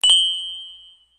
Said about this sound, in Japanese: また聞こえてきたわ。 大当たりの音が。